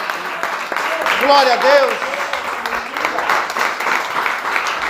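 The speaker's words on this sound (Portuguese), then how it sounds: "Você pode aplaudir o Senhor" A church congregation applauds during a sermon, with dense, steady clapping filling the room while a voice exclaims over it.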